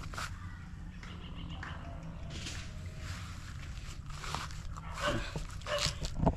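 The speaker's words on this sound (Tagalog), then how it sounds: "may aso guys" A dog barks in a rural outdoor spot near a creek, sharp barks at middle distance with birds chirping throughout and louder bursts near the end.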